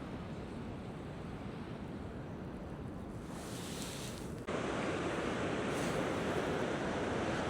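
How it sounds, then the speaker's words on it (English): Waves of surf roll in and break far below Cornwall clifftops, a broad continuous wash mixed with gusting wind that grows suddenly louder partway through. "lovely surf coming in today"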